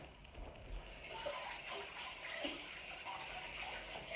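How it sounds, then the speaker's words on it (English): Tap water runs in a steady, even gush while hands are rinsed in a home kitchen during meatloaf prep, with no breaks across the few seconds. "I'm going to rinse my hands really quick"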